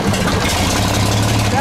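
A 70-year-old engine runs steadily with a low, continuous rumble as the clutch is let out, loud and close throughout with no break in the sound.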